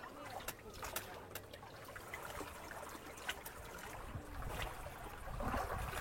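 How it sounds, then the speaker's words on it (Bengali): A hand-pulled boat moves on the Kangsabati river, with water gently lapping and splashing against the hull in faint, uneven slaps and trickles. Soft murmuring voices are heard in the background. "এই হাতে টানা নৌকায় যে এই জলের ওপর যে ছলাৎ ছলাৎ যে আওয়াজটা হয়"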